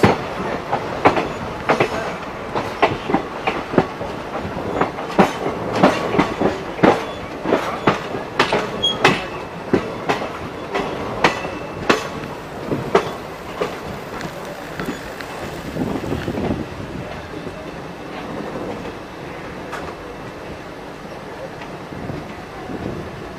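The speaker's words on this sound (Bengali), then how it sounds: "রাজ্যরানি এক্সপ্রেস।" Rajyarani Express train passing close by, a rapid series of loud rhythmic wheel clacks over rail joints that thin out and fade into rumbling wind noise.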